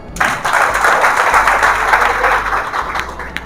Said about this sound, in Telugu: ఒకసారి క్లాప్స్.